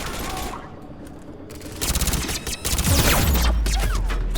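Gunfire in the Mass Effect 3 Legendary Edition video game: bursts of shots building from about a second and a half into loud, rapid, sustained fire, with heavy booming impacts near the end.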